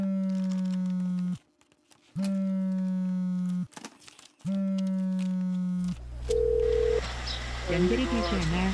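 Three long steady telephone tones repeat with gaps, then a short burst of dialing beeps and electronic line noise follows.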